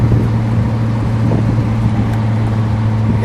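A red 1970 Pontiac GTO Judge convertible with a 400 Ram Air engine and 4-speed, cruising steadily with a loud, low, even engine drone and road rumble heard from inside the car.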